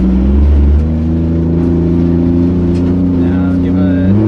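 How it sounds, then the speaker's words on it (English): A 2JZ-swapped Nissan 240SX drift car revs steadily while doing donuts, its loud engine drone close and continuous, rising slightly in pitch with a voice talking over it. "Now give it a lot of gas."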